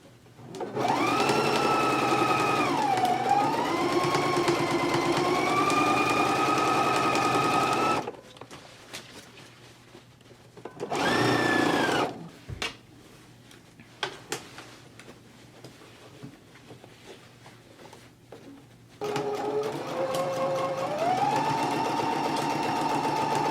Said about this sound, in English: we can go to the machine and we can stitch it at a 5/8 of an inch seam allowance